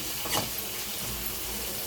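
Water poured into a pan of dried fish frying in oil with curry masala and chilli powder, a brief splash and rushing hiss over steady sizzle, ending in a sharp clatter.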